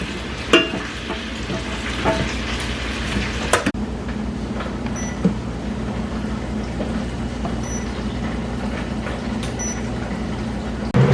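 Chorizo frying in a pan, a loud, continuous close sizzle with occasional scrapes and clinks of stirring, steady throughout with no talking.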